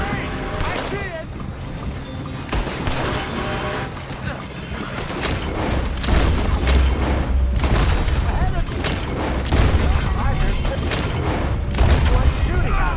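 Gunfire in the Western video game Red Dead Redemption 2, with repeated booming shots and bursts of fire sounding loud and close over a busy game soundtrack, while voices talk throughout.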